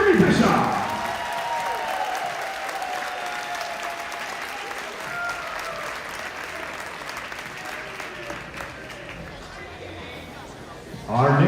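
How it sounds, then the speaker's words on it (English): Arena applause at a men's NCAA gymnastics meet, a broad crowd clapping that holds steady and slowly fades, with an announcer's voice and a sustained tone over it, then a fresh loud burst at the end. "Round of applause and give it up for Jeremy Bischoff."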